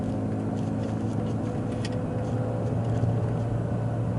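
A manual transmission car running in a lower gear after a downshift while heading into a curve in city traffic, a steady, fairly loud engine drone with road noise, constant throughout.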